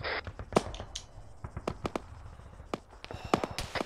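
Scattered gunshots ring out in the military shooter Arma 3, sharp single cracks and short bursts at varying distances, irregularly spaced against a faint background.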